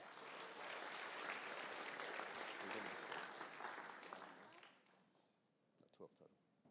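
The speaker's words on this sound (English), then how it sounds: "Thank you. Round of applause." Applause from a luncheon audience at a sports club's Olympic luncheon, a dense, steady wash of clapping for about four and a half seconds that fades away, followed by scattered voices and a few stray claps.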